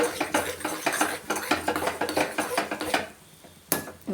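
Semolina roasting in ghee in a pan on a low flame, stirred with a metal spoon in quick rhythmic scrapes and clinks against the pan, close, pausing briefly near the end before one last sharp knock.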